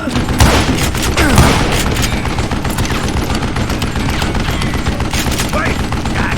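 Gunfire in the western shooter Call of Juarez Gunslinger: loud bursts of shots and booms run throughout over a busy game soundscape.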